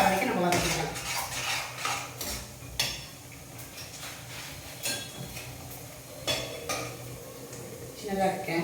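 A spoon scrapes and clanks against a metal pan as halwa ingredients are sautéed, with irregular sharp knocks and scraping strokes close by, while a voice talks intermittently in the background.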